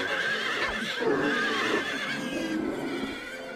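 Carousel horses neigh and whinny in the game Silent Hill 3, their repeated calls layered with eerie game music and clip-clop hoofbeats, steady and close throughout.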